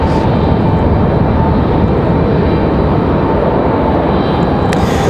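A Boeing 737-700 jet airliner passes over Raleigh Durham International airport, its engines producing a steady, loud broadband roar that holds evenly throughout with no talk over it.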